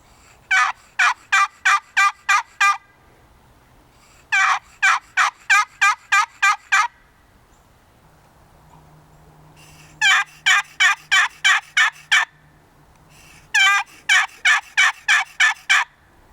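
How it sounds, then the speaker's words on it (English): A wooden turkey box call is worked by sliding the paddle across the top edges of the box, sounding four loud bursts of rapid, evenly spaced yelping notes separated by short pauses. "The sound is produced by moving the paddle against the top sides of the box."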